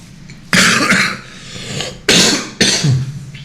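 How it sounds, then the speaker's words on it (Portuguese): Three harsh, loud coughs come close up, each a sudden burst that trails off, with short pauses between them. "A gente passou o episódio inteiro tossindo na cara de vocês."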